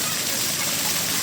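Water pours and drips steadily at a cool natural bathing spot, a continuous close rushing splash with no clear breaks.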